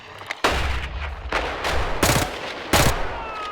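Shotgun blasts in the Roblox game Hellmet: four loud, booming shots spaced roughly a second apart, each a sharp broadband crack with a short rumbling tail, no voices present.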